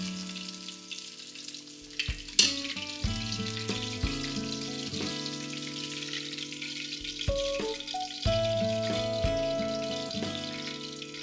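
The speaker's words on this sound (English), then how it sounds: "let them fry up for about a minute on each side until they're" Thin pieces of food fry crisply in a hot pan, a steady sizzle running underneath bright tuneful background music.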